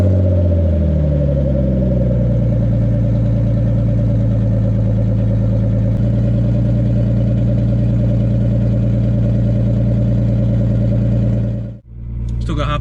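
A Nissan R32 Skyline with an RB25DET engine starts from cold after sitting about nine weeks, then settles into a loud, steady, deep idle that runs continuously before cutting off near the end.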